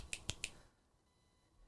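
Three quick, crisp finger snaps land close together in an even rhythm. They are sharp and near, then fade into quiet room tone.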